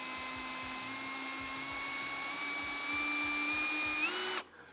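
Festool CXS18 18V cordless drill driver whirring continuously while its torque setting is changed, the steady motor whine rising in pitch near the end before abruptly stopping, close-up with no talking.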